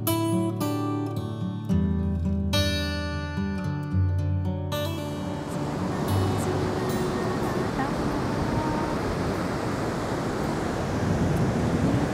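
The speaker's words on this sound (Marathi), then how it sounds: "लाटा अशा बेभान होऊन किनाऱ्यावरती येत आहेत." Monsoon sea waves surge onto a Konkan shore under heavy clouds, a loud continuous wash of surf and wind that takes over after several seconds of music at the start.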